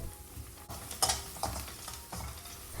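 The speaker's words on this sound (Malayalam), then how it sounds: "അതിലേക്ക് പച്ചമുളകും വെളുത്തുള്ളിയും കൂടെ ഒന്ന് വഴറ്റിയെടുത്തിന്" Green chillies and garlic sizzle in butter oil in a pan while being stirred, a close, steady frying hiss with several louder scraping stirs and no voices.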